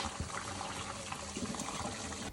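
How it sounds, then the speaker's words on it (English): Hot water from a home heating system in Sweden is released by its safety valve, a faint, steady gushing and trickling flow that continues throughout. "So it releases all the hot water down to..."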